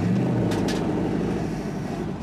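A 1963 Chevrolet Impala SS V8 idling roughly in gear, struggling and refusing to rev, with a steady low rumble and a faint flutter that holds close and loud with no talking.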